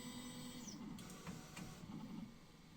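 Ultimaker 2 Plus 3D printer moves its build plate during leveling, a soft steady motor whir with a brief rising stepper whine and a few faint clicks, close and quiet.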